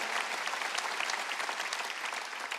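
Congregation at a Korean church Wednesday service bursts into brief, steady applause, a dense wash of many hands clapping at once, fairly close and with no talk over it.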